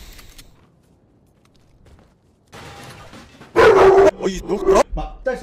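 A dog barking in a sharp, loud burst of yaps and yips after a quiet stretch and some background noise, with scattered shorter barks following close by.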